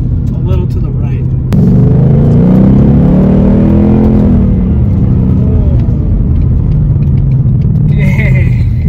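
A Ford Mustang GT engine rumbles steadily while driving, rising into a stronger drone after a sudden jump in level, with a low throaty tone throughout and a brief spoken remark over it.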